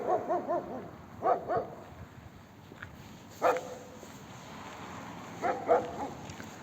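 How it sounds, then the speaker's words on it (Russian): A dog barks in short bursts of two or three at a mountain fortress street corner, moderately near, with quiet pauses between the bursts. "Вот эта собака тут всегда лает на этом углу."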